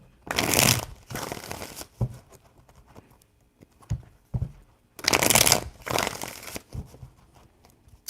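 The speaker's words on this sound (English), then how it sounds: "Three shuffles." Tarot cards are shuffled by hand in several brisk riffling bursts, two longer flurries separated by quieter taps and soft handling sounds, close and clear with no talking.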